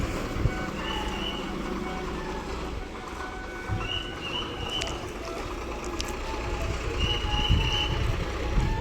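Buses idling and moving at the Kukke Subramanya bus stand, with a continuous low engine rumble, a few faint reversing beeps and horn tones, and distant background bustle throughout.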